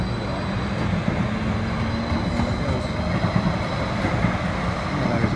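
RTD light rail train at County Line station, a steady rumbling roll with faint clicking of wheels over track, continuous and fairly close throughout.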